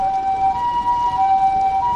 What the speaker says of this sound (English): No, the ambulance.